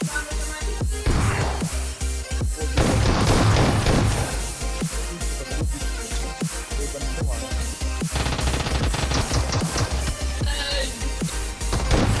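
Rapid gunfire in PUBG Mobile's Ancient Secret mode, including Desert Eagle pistol shots, with dense, close bursts and sharp repeated bangs running throughout over busy game audio.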